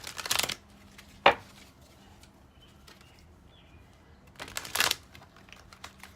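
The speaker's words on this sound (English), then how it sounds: "me just do some shuffling here." Tarot cards are riffled in three quick bursts, a crisp fluttering shuffle, a single sharp snap, then another riffle after a quiet pause.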